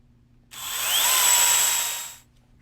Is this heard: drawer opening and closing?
no